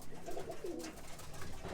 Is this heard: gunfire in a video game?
no